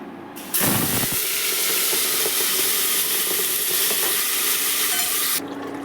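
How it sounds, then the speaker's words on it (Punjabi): Ground spices hit very hot oil for a potato and mushroom curry, with a sharp burst of sizzling at the start that settles into a loud, steady frying hiss, then cuts off abruptly near the end. "ਆਇਲ ਆਪਣਾ ਕਾਫੀ ਗਰਮ ਹੋ ਗਿਆ ਤੇ ਹੁਣ ਆਪਾਂ ਮਸਾਲਾ ਪਾਉਣੇ ਵਿੱਚ"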